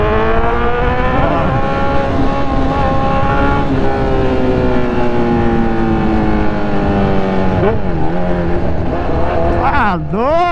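A Honda CB1000R motorcycle with a straight exhaust roars loudly and continuously, its engine note climbing and dipping as the rider works the throttle, with brief sharp swoops near the end.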